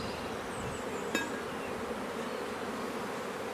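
Honeybees hum in a steady, dense buzz over a brood frame while a swarm is being collected from a hive, close and continuous, with a single faint tap partway through.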